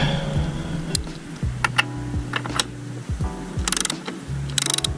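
Ratchet wrench with a 36 mm socket loosening the rear axle bolt on a motorcycle during a chain adjustment, giving repeated close clicking bursts of pawl ratcheting with short pauses between strokes.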